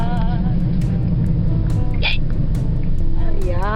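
A child hiccups in the back seat of a moving car, with sharp hiccups standing out against a steady low road rumble while people talk nearby.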